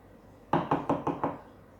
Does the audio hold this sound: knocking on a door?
yes